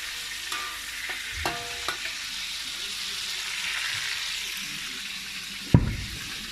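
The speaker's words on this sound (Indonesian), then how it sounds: "Ikan masin kita tengah goreng." Salted fish fries in a pan, a soft steady sizzle close by, broken by a few clinks and scrapes of a utensil stirring and one sharp knock near the end.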